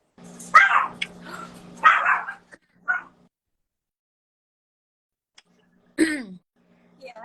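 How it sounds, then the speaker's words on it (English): A dog barks a few times, with several loud, close barks in quick succession, then a pause and one more bark, heard in a quiet room. "Oh, I can hear your dog."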